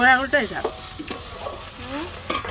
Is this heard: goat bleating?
no